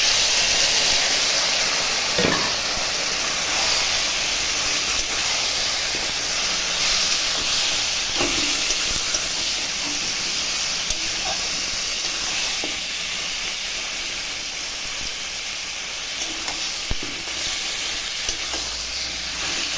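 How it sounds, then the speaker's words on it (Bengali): Steady hiss and sizzle of chicken frying in a pan with onions and spices, continuous and close, with occasional faint clinks of stirring. "দেখো আমার মাংসটা কষতেছে"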